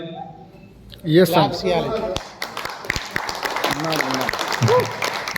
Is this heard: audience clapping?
yes